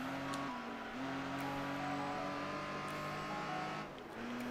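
A Pagani Zonda's engine in Gran Turismo 3 drones steadily at high revs with gear changes marked by brief pitch drops, close and continuous throughout.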